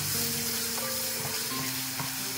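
Constant crackling sizzle of a dhaba-style mixed vegetable tempering over a strong open flame, close and loud, with faint stirring clinks, no voices.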